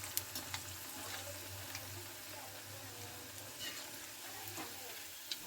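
Cabbage pakoras fry in oil with a faint, continuous sizzle and crackle, joined by occasional light taps of stirring and a low background hum.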